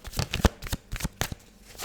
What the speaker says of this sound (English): let's pull you out some tarot